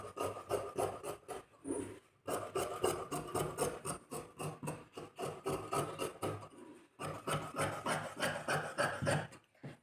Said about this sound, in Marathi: तर आता हा मी कापून घेणार.